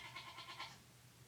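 Goats bleating nearby in a short burst of three quick, wavering calls, faint and somewhat muffled against a quiet indoor background.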